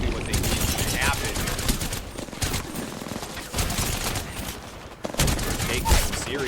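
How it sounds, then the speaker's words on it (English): Heavy, sustained gunfire in an Apex Legends match: dense bursts and rapid automatic fire roll on almost without pause, loud and close, with a brief lull near the end before shooting resumes. "Taking some serious fire now."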